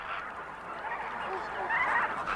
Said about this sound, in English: Including the Caribbean flamingo.